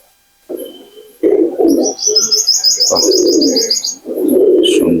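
Pigeons cooing at close range, deep throaty rolling coos repeating in several bursts, with high chirps and twittering from other birds over the top.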